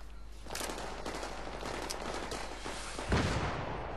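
Rapid gunfire from Battlefield 3 on Xbox 360 rattles in continuous overlapping bursts, with a louder, heavier blast close to the end.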